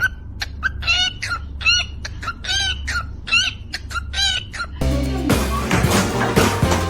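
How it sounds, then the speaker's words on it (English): Bird making rapid rhythmic clucking calls in short choppy bursts like beatboxing, loud and close, followed by a sudden switch to dense music-like noise for the last couple of seconds. "This bird should release his own beatboxing album."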